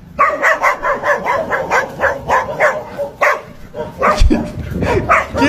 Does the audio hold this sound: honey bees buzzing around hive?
no